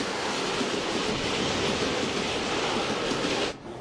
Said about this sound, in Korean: 전철이 역으로 들어왔습니다.